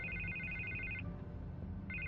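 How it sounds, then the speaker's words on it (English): A telephone rings in Batman: A Telltale Game, giving a steady electronic trill that cuts off after about a second, then starts again, over a low background rumble. "I can't get the phone to stop ringing."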